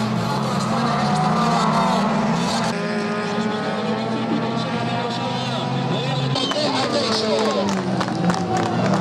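Spectators at an autocross round of the Spanish championship in Arteixo applaud steadily as off-road race cars roar past, the engine noise loud and continuous beneath the crowd.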